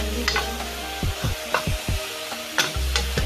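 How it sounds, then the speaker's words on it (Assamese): Chicken meat frying in oil with onions for a curry, a low steady sizzle broken by several sharp scrapes and knocks of stirring in the pan, close by with no talk. "তাৰপিছত দিলোঁ আপোনাৰ এতিয়া মাংসটো ভাজি আছোঁ"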